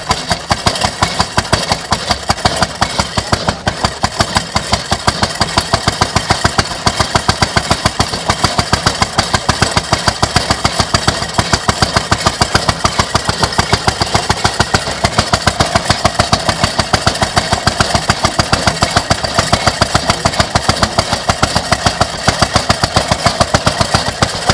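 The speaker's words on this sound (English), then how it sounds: "That's a single lung engine right there, one cylinder." A single-cylinder engine on an old sawmill runs steadily and loudly, its rapid, even firing pulses continuing without break throughout, close by and with no talk over it.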